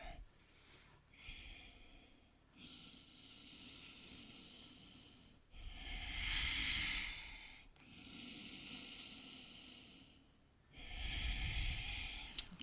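Slow, audible breaths during a seated chair yoga session for the shoulders, several long inhale-exhale swells rising and falling with pauses between, close and fairly quiet with no talking.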